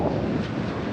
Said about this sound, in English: It's very, very windy.